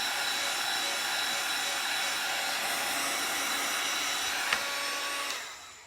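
A hot air heat tool blows steadily while drying craft paint, an even whooshing fan hiss with a faint electric whine that winds down at the end.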